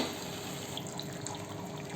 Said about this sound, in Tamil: தண்ணி சேர்த்து விட போகிறோம்